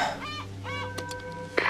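A bird calls in Uncharted: Drake's Fortune, giving two clucking, honking notes like a fowl over a steady game hum with tonal music, followed by a short rustle and thump.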